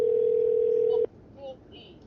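A steady telephone dial tone hums for about a second in the No I'm Not Human video game, then cuts off abruptly, followed by faint low voice-like sounds.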